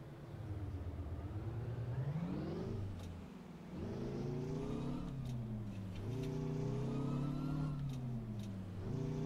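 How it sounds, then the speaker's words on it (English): A truck's loud Detroit diesel engine in American Truck Simulator, revving up through gears in repeated rising sweeps with brief drops between shifts, close and prominent, with no talk. "Now we got a loudmouth Detroit motor here."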